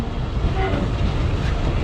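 A local train rolls onto the Chapai line on the Rajshahi to Chapainawabganj route, giving a steady, close rumble of wheels and carriages that holds even throughout.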